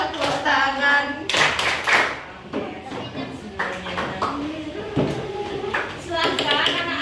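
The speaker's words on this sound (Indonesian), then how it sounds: "Tepuk siku, tepuk pundak, tepuk tangan." A grade 5 class of children claps hands and taps elbows and shoulders in a rhythmic pattern while chanting along, the quick claps landing in bursts between the voices.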